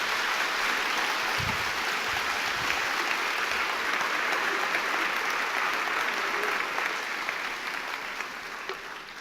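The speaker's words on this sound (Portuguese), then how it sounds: "Dê um aplauso ao Senhor, por favor," A church congregation applauds on a worship night, with a thick, steady wash of clapping that holds for several seconds before gradually thinning out.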